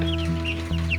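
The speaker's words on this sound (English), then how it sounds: "Maybe we'll have to do like chicken days where they can just free range a little bit" Backyard chickens clucking softly nearby in a small coop area, brief scattered clucks over a steady low hum.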